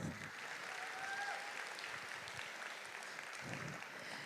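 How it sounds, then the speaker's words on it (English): An audience gives a soft, steady round of applause after a skit at a STEM fall orientation event, with even clapping that sounds distant and fairly quiet throughout. "One more round of applause for our skit."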